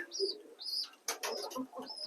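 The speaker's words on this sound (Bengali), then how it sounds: "লোটন পায়রা" Soft Lotan pigeon coos, from a pair of Patnai Lotans, repeat close by, with a few fluttering chirps and a burst of wing flaps in the middle.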